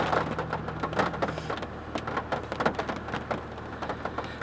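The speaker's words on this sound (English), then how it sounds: "Can you hear the rain hitting my roof?" Steady patter of Hurricane Barry's rain drumming on a roof overhead, dense and continuous with occasional louder drops, no voices.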